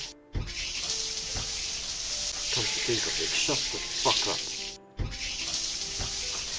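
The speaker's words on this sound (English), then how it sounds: "She just keep opening and then closing the tap of the fucking shower." Shower tap in the Amber Quartz visual novel opened and shut repeatedly: a steady close water hiss cuts off abruptly near the end and then restarts, with a voice speaking over the middle.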